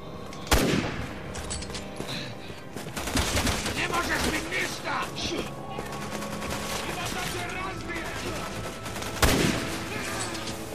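Gunfire rings out in the video game Resident Evil 6, sharp loud shots at the start and near the end with scattered combat noise and effects in between, heard without speech over it.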